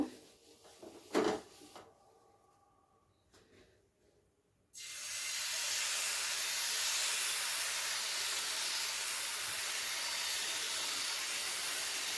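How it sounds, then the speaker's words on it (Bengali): A few clattering knocks, a brief pause, then a sudden loud, steady hiss as patishapta pitha hits hot oil in a pan, sizzling continuously. "পরের পিঠেগুলো একইভাবে ভেজে নেব"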